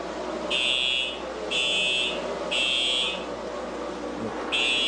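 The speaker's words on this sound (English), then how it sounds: "We have some sort of an alarm going off." An electronic alarm beeps in repeated long, loud tones, roughly one per second with short gaps, over a steady background of crowd and race car engine rumble at a 2006 NASCAR race.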